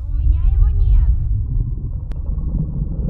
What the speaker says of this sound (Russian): Тут гром, раскаты грома.